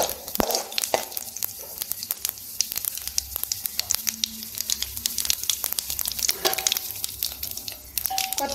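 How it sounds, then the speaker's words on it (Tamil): Mustard seeds, cumin and fenugreek splutter in hot oil in a kadai, a close, continuous stream of sharp pops and crackles with no talking. "எண்ணெய் காஞ்சோன்னு கடுகு, ஜீரகம், வெந்தயம் எல்லாம் சேர்த்து பொறி விட்டுக்கலாம்"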